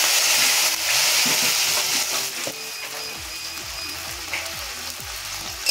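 Panch phoron spices sizzle loudly and steadily in hot oil for a banana flower curry, a close, dense crackling hiss throughout.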